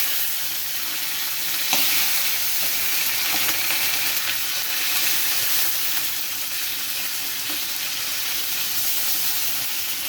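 Chopped tomato and mustard seeds sizzle in hot oil in a pan, a loud, dense, steady hiss that runs unbroken throughout, close by with a few faint crackles.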